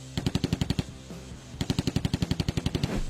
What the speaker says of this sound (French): il y a un canon de 30 mm GSH-301, dont la cadence de tir atteint 1500 coups par minute.